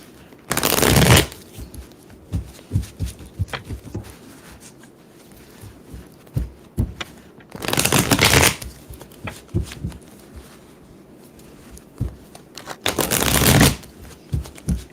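Oracle cards are shuffled up close in three distinct bursts of rapid riffling, separated by quieter pauses with faint handling sounds.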